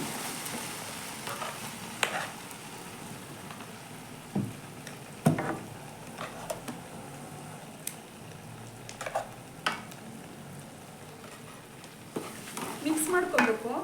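Cooked moong dal and rice being stirred in a frying pan for savoury and sweet pongal, with a soft sizzle under repeated scraping and clanking spoon strokes, near and moderately quiet, busier toward the end.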